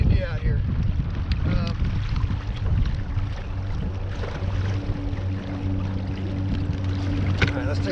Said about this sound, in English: it's also very, very windy out here